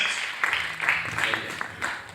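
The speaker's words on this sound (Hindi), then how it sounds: "जोरदार तालियां सर के लिए।" Audience applause at an RCM Business event, a brief stretch of moderate clapping from a crowd with a voice speaking over it.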